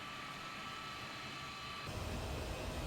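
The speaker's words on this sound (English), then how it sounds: "you can hear the engines, but they need to be louder" C-17 Globemaster III jet engines in a flight simulator give a steady, fairly quiet broadband whine and rush, with a low rumble that swells slightly partway through, without speech.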